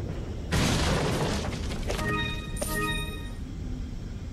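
A shotgun fires in Resident Evil 4 during a lake monster fight. A heavy, loud boom opens and lingers, then a second blast follows with a bright metallic ringing tail. There is no talking.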